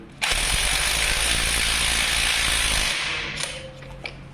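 A homemade anchor wrench spins a nut down onto an anchor bolt, giving a loud, steady mechanical whirr for about three seconds that fades out, followed by a few faint clicks and taps.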